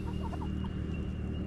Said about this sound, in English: the chickens are in here getting all the bugs and worms and things